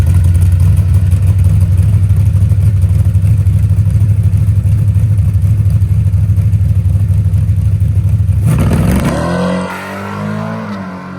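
Carbureted race car engine making a higher-RPM pass, set up with an ATM carburetor on nitrous and E85 or Ignite Red fuel: a loud, steady close-up roar holds for about nine seconds, then cuts off sharply into a quieter, wavering tail.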